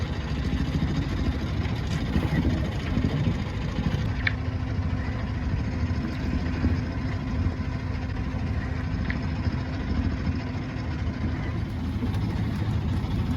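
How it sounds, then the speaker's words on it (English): Sailboat motoring at midnight under engine power with a large genoa sail set in light wind, a steady low engine drone running continuously throughout with faint intermittent clicks above it. "We are still motoring, but at least we have the big Genoa up."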